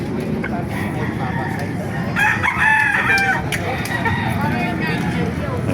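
A rooster crows amid clucking chickens at a busy outdoor chicken market in Baliuag, Bulacan, Philippines, with people talking nearby and a steady crowd murmur underneath.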